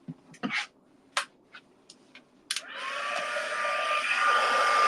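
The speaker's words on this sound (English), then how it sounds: "just going to heat this up. You'll see that it's a tiny bit finer, this embossing powder" After a few small taps and handling noises, a heat gun starts up and blows a steady, loud whooshing roar as it melts fine embossing powder on a handmade card.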